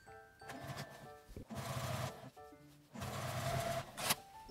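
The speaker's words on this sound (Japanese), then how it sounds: "空いてる返し口を1センチ内側に折り込んで端ミシンをかけます。" A sewing machine runs edge-stitching along a lunch bag, with two long bursts of steady whirring stitching broken by short pauses and small clicks, close and alone.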